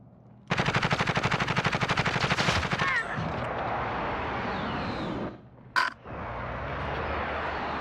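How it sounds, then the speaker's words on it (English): Rapid bursts of automatic gunfire in Call of Duty: Modern Warfare, a loud sustained machine-gun volley followed by battlefield noise and a short sharp shot. "Receiving hostile fire."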